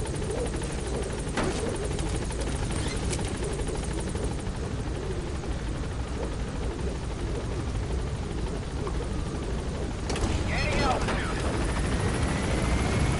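A helicopter's rotor chop and engine drone fill the scene continuously in Metal Gear Solid V: The Phantom Pain, with a brief burst of extra clatter near the end.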